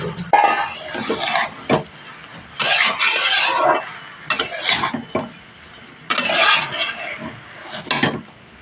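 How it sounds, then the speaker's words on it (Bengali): Puti fish are stirred in a cooking pan with a utensil, giving repeated scraping and clattering strokes in uneven bursts, close and fairly loud, with no talk. "এবার এখানে আমি পুঁটি মাছগুলো দিয়ে একবার হালকা হাতে নাড়াচাড়া করে পরিমাণ মতো জল দিয়ে"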